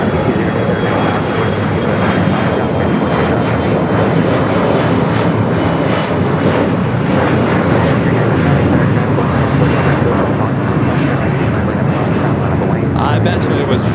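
A Boeing 787 Dreamliner taking off from the south side at LAX, its engines producing a loud, continuous roar that fills the whole stretch without easing.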